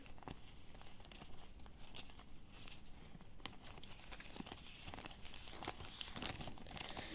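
Paper surprise sticker packets crinkle and rustle steadily up close as they are handled, a continuous crisp rustling with no talking.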